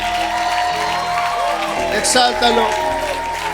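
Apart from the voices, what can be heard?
congregation applauding in church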